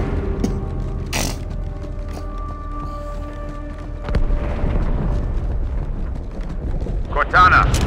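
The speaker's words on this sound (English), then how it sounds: "That explosion came from inside the Athens." Explosion from inside a ship in the Halo 2 video game, a heavy low rumbling blast swelling under a continuous droning hum of game ambience and music, with a second surge near the end.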